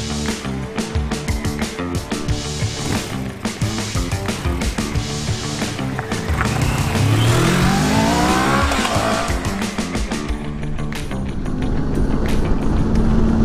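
A 2020 CF Moto 650 GT motorcycle with its engine in standard tune runs loud and close, its revs climbing steadily through an acceleration, then settling into a sustained drone.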